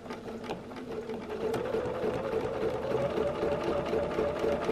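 A sewing machine does travel stitching on a quilt, guided with a circle ruler, its motor whirring steadily with fast needle chatter that picks up after the first second and runs on close and loud.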